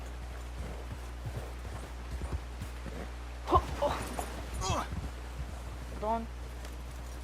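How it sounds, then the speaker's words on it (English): A horse's hooves clip-clop on the ground in Red Dead Redemption 2 while it is ridden, soft and irregular, under occasional game voices and short exclamations. "nos subimos al caballo y nos vamos de aquí"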